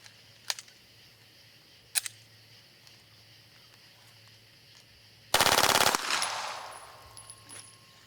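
A machine gun fires a fast burst of about fifteen rounds as one dense, loud roar lasting under a second, followed by a decaying echo and faint metallic ringing, after a couple of sharp clicks beforehand.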